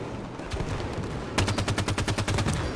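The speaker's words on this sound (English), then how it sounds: "We got a Warthog shooting at us." Rapid automatic gunfire from a Warthog's mounted gun in Halo 5: Guardians, a sharp burst of evenly spaced shots that rings out loud and close after a brief rumble.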